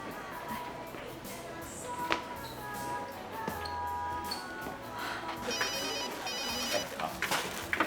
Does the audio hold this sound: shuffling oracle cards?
no